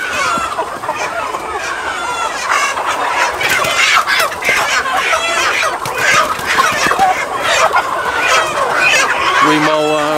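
Free-range chickens on a farm of about 5,000 birds cluck continuously and loudly nearby, a dense chorus of hens with occasional sharper calls, and someone speaks over them.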